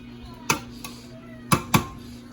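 Pot stirring with sautéed tomatoes and other ingredients, sharp utensil clinks against the pot, a few spaced knocks with two close together near the end, over a quiet steady hum.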